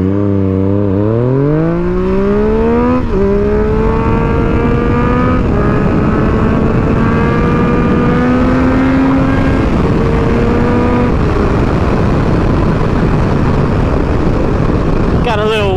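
A Yamaha FZ-09 motorcycle engine accelerates hard and loud, pitch climbing through several gear shifts with brief dips between them, over steady wind roar.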